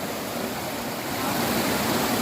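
Natoto Falls in Barangay Sabloyon pours steadily, a dense, loud, continuous rush of falling water heard up close without pause.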